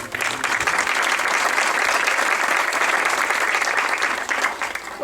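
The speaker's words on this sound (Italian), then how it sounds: "Un grande applauso." Audience applause at a youth music recital in Parenti, a steady dense wash of many hands clapping that holds evenly for about five seconds, loud and close.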